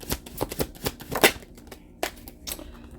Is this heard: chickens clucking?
no